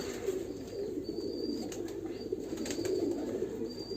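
A long-boned pigeon coos in a sustained low warble, near and steady throughout, with occasional soft high tones above it and no talking.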